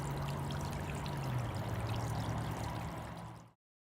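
Floodwater from the 2018 Mississippi River flood trickles and pours steadily through a small leak near a port building, a continuous close wash of running water lasting about three and a half seconds before it cuts off.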